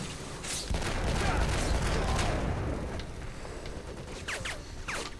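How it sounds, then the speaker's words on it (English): Enemy gunfire in the shooter game Black: a dense, rapid fusillade of shots with booming low-end that swells then thins out, followed by a few sharp ricochet-like zips near the end. "Everyone's like firing at me."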